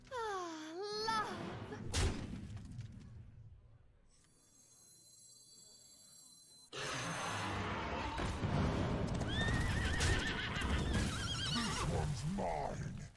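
A horse neighs loudly in the Hearthstone card game, near the start. Board sounds, thuds and a faint voice follow after a quiet gap.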